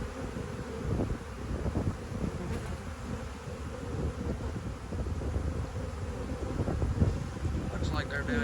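Honey bees hum steadily around chemical-free beehives left unchecked for months, a dense continuous buzz of many insects close to the microphone with some wind rumble underneath.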